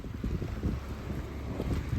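Wind blowing hard on a rainy January day in Penzance, a steady loud rumble of gusts buffeting the microphone, with no voices.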